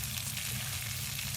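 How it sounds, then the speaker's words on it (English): Bacon sizzling in a pan on an ATV camper stove, a steady crackling fry holding at an even level throughout. "this is some of our White House bacon we made earlier"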